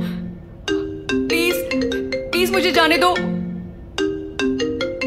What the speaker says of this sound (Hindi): ये मन बार बार क्यों कॉल कर रहा है?